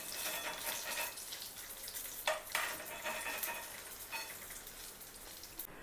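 Taro leaf (arbi) potli frying in hot oil, a steady close sizzle and crackle throughout with a few brief clinks of a utensil lifting the pieces out.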